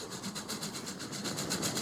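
Freight train carrying fruit in Transport Fever 2, running on rails with a steady rumbling hum and a soft regular pulsing clatter, faint and unbroken, with no voices.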